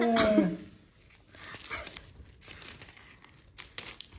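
Adhesive tape is peeled off a man's head and hair during a home prank, giving faint, intermittent crinkly tearing and rustling bursts with quiet background noise.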